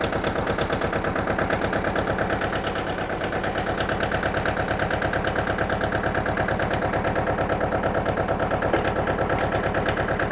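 A tractor engine idles in neutral with a steady, throbbing chug that stays loud and close and unchanging, with no talk over it.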